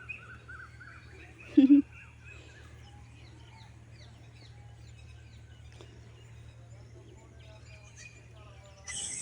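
Koel and other birds call outdoors in a rural backyard where goats are kept, chirps and calls scattered through a steady low hum, with one brief louder burst near the start.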